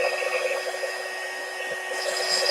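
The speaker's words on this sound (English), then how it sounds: "I got this blow dryer, or embossing dryer, heat gun, whatever you want to call it." A small handheld embossing heat gun, a blow-dryer-style craft tool, running continuously with a steady close whirring hiss and no talk.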